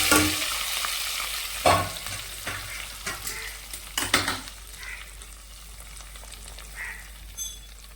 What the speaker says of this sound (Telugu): ఇక తాలింపు ఈ విధంగా పప్పులో పోసేస్తాం